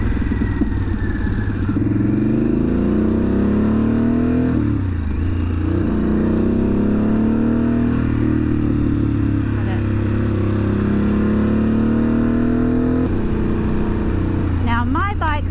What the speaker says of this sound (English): Now my bike sounds pretty good. It has the Two Brothers exhaust on it. It's loud, but not like overbearing.